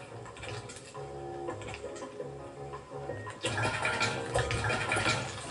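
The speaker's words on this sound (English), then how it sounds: "Then, flush." Toilet flush in the video game Octodad: a loud, rushing water swirl that surges stronger midway through, with a steady gurgling wash and no talk over it.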